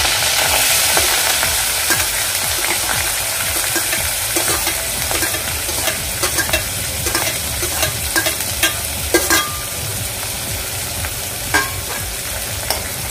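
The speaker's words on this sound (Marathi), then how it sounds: "कांदा ट्रान्सपरंट होईपर्यंत आपण इथे परतून घ्यायचा आहे कांदा।" Onions sizzle steadily in hot oil with ginger-garlic paste while a spoon scrapes and stirs the pan now and then, a continuous close frying hiss.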